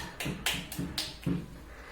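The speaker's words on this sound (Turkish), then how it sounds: "On deyince hep birlikte alkışlayalım" Several sharp hand claps land in an even rhythm at home or in a special education class, close and moderately loud, five quick claps spaced about a quarter second apart with no talk.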